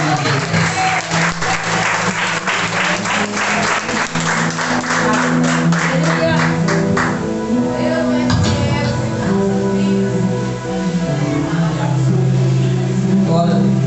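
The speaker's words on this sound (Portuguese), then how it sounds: "glorifique o Senhor com as palmas em nome de Jesus" A church congregation breaks into sustained applause, many hands clapping loudly and continuously, blended with music and some voices underneath as the clapping carries on.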